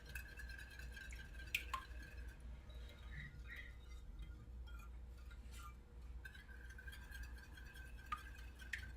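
A spoon stirs flan custard mixture in a bowl with quiet, soft scraping and a few light clinks against the side, close up and unhurried, with no talking.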